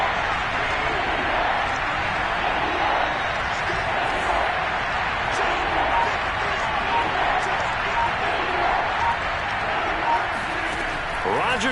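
Steady stadium crowd roar at Kansas City's home field in a Madden football video game during a third-and-goal play, a dense, continuous wash of noise that stays loud and even throughout with no distinct voices standing out.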